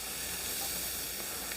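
Vegetables hit a dark roux for seafood gumbo, giving a steady, close, even sizzle and hiss that holds without a break.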